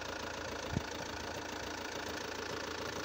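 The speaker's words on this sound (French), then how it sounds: "Accélère jusqu'à 2500 tours. 5 secondes, 2500 tours." A car engine runs at a held 2500 RPM during an alternator test for a starting problem, giving a steady, even drone with one faint knock near the start and no voices.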